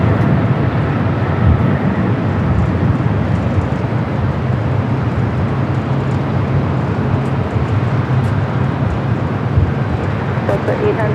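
An Air Cargo Boeing 777 freighter rolls down the runway with a broad, steady rumble and roar. The sound stays loud and continuous throughout, with no clear breaks.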